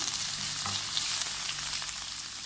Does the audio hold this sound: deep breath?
no